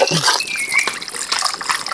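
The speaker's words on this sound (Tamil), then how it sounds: "அதோட புளி தண்ணியை இப்போ சேர்த்துக்கலாம்" Tamarind water is poured into a village-style fish gravy in a short, close splashing trickle of liquid hitting liquid, brief and bright with faint drips.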